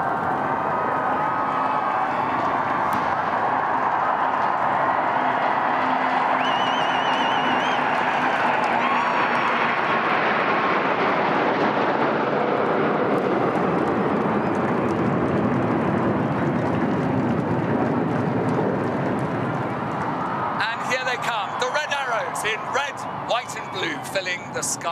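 Fifteen Typhoon fighter jets fly past in formation for the Queen's Platinum Jubilee, producing a broad, sustained jet roar that swells and fades over the crowd. Sharper crackling noise comes in near the end.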